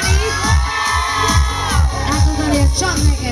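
A crowd of girls at a 2010 tourist-season opening event screams for a young boy, loud and sustained, over a thumping dance beat with repeated bass pulses.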